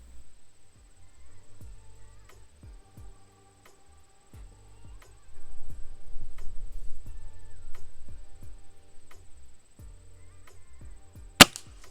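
A Gamo Hunter Extreme Pro air rifle fires a JSB Hades 15.89-grain pellet, one sharp, loud crack near the end, preceded by faint scattered clicks and low handling rumble, with no talking.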